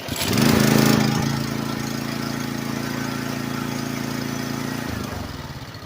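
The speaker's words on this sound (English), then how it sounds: "this is a push lawnmower with a 1-gallon gas tank" A Turfmaster HDX 30-inch commercial walk-behind self-propelled gas mower starts with a pull, surges briefly, then settles into a steady, close, loud running drone before cutting off.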